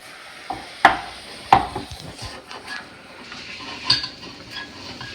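Mince being stirred and broken up in a pan with onions, garlic and oil: a few sharp utensil knocks and scrapes against a low background sizzle, with quieter scraping in between.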